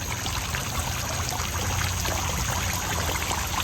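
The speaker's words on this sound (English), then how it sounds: "We love it because each individual leaf weeps water." Water trickles and drips steadily from a custom-made copper weeping maple fountain whose every leaf weeps water, a soft continuous splashing patter at close range with no voices.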